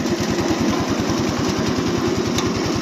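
A Forte 10 walk-behind tractor converted to Kozak spec runs with a one-metre rotary tiller engaged, its engine chugging loud and steady at close range with a fast regular beat.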